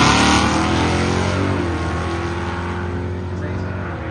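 A drag race car launches hard at an airport charity drag race, a loud, near engine roar that slowly fades as it pulls away, with a faint tire squeal in it.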